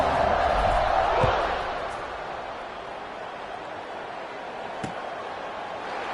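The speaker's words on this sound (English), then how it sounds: "this crowd is buzzing after that last score" A football stadium crowd buzzes in a steady roar during the fourth quarter of a Duke vs. NC State game, loudest at the start and then settling into a lower, continuous murmur.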